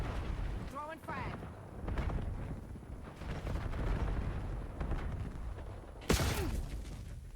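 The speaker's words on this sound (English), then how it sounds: "Throwing frag." A fragmentation grenade detonates in a first-person shooter match, a sudden broadband boom near the end that rises above steady game noise and ongoing talk.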